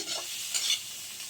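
Short burst of fish sizzling in oil in a pan, a steady crackling hiss with a brief louder flare midway.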